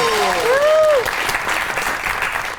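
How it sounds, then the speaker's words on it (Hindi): Loud applause from a large TV comedy show studio audience, steady clapping filling the space, with a rising whistle or cheer at the start. "आपकी बहुत सी तालियों में"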